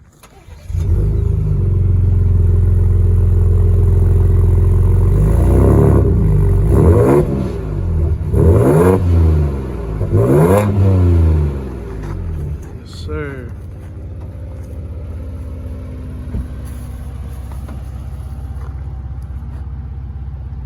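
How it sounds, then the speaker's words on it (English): A 2024 Ford Ranger Raptor's 3-litre twin-turbocharged V6 cold-starts with a loud crank and catch, then barks through several sharp revs before settling into a steady, rumbling idle, heard up close. "we're going to go ahead and get you a cold start for that 3 liter V6 twin turbocharged 405 horsepower"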